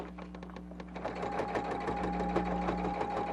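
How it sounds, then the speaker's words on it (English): Sewing machine stitching a duster along a drawn line, a fast steady mechanical whirring and needle clatter that picks up after a quieter start, close and alone without talk. "Now, I am going to try by holding this side to sew"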